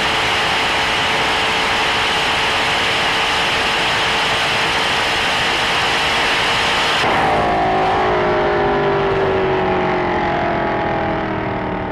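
A 1100-horsepower twin-turbo Dodge Viper ACR drag build in Forza Motorsport 7, its engine roaring loud and close under full acceleration, then dropping away into a falling, fading whine about two-thirds through.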